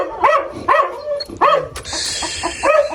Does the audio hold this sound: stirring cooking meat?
no